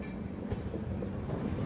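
Bi-weekly Secunderabad to Vasco Da Gama express train running steadily on the tracks near Guntakal Junction, a continuous broadband rumble of wheels and carriages with no voices.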